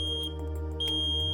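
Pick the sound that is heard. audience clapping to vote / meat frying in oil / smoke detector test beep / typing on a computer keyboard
smoke detector test beep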